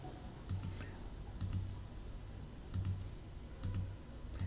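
A computer mouse clicking in pairs of crisp, sharp clicks, four double clicks spaced about a second apart, close and quiet over a low steady hum.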